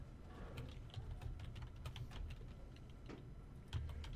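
Quiet, rapid keystrokes on a computer keyboard tapping in an uneven burst of clicks, recorded close and low in level with no voices.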